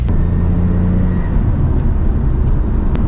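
A Lexus IS 300, recently fixed of misfiring, idles just under 1,000 rpm in a loud, steady low rumble, close up and alone, with a smooth, even tone throughout.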